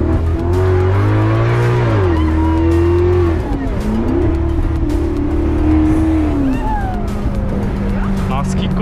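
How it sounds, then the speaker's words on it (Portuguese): Convertible car engine revving loudly as it accelerates, a steady roar climbing and dropping through gear changes, heard from inside the car with people talking. "Vamos dar uma aceleradinha agora de leve"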